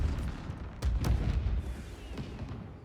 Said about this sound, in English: Hunters and scorpions and explosions.